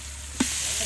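Ginger garlic paste frying in a pan for mutton curry, a constant sizzle with one brief scrape of a spoon stirring it partway through.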